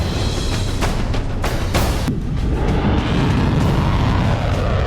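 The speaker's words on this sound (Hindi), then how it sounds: "इजराइल के आसमान में रात भर बारूदी धमाके होते रहे।" Explosions in the night sky over Israel: a rough run of loud booms and bursts in close succession, dense and continuous, with no talk.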